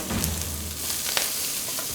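Spring onion hits a seasoned wok for stir-fried noodles, giving a brief soft sizzle with a couple of faint clinks, moderately quiet and with no voices.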